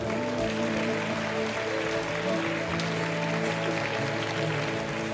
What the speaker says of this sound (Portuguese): Você pode aplaudir o Senhor bem forte por isso?